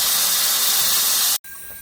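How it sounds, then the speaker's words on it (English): Steam from a homemade generator for testing live steam locomotives rushes with a loud, close hiss, cuts off abruptly, then resumes more quietly as it is directed into a boiler. "So now I direct the steam into the boiler."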